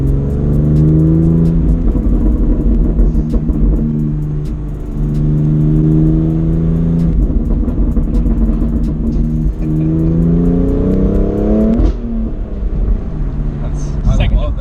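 BMW M3 F80 Competition accelerating hard through second and third gears, engine note climbing and dropping at each shift, with a sharp exhaust pop near the end, heard from inside the car while people talk over it.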